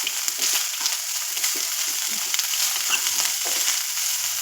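Home-grown curry leaves crackle and spit in hot oil in a pan, a steady close sizzle broken by bursts of sharp popping, with no voices.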